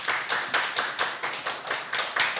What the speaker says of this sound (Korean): 다시 한번 발표해 주신 최선희 교수님께 감사의 박수 부탁드리겠습니다